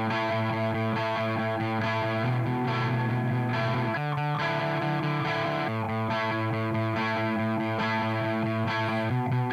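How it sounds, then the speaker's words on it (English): A crunchy, mildly distorted electric guitar plays rhythmic pop punk chords through an Amplitube 5 HiWatt amp simulator, low gain, alone and sustained, with a few brief pauses between phrases. "go through the different tones I got with the HiWatt amp"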